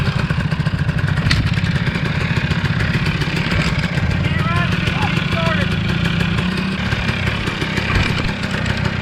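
A 2013 Suzuki RMZ450 dirt bike engine idling close by, with a steady, dense mechanical clatter and low throb that stays loud and even throughout, and faint speech mixed in.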